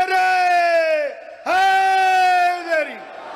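Two long, sustained chanted calls ring out loud and close at a Shia majlis religious gathering in Rajoa Sadat, each call rising and then trailing off, with a short gap between them.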